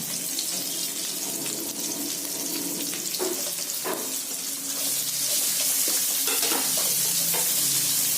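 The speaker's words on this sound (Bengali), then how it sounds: "রসুনটা ভাজা ভাজা হয়ে গেছে, এবার আমি পেঁয়াজ দিয়ে দেবো।" Onion added to oil after garlic has been fried, a loud, dense sizzle with several utensil scrapes and stirs, close and continuous, with no talk.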